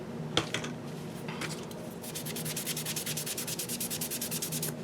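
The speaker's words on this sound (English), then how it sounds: "I'll get this really gritty sanding thing and do that to help remove some of the" Scratchy rubbing with a coarse sanding file, first in a few separate strokes, then quick rhythmic back-and-forth scraping, close and steady.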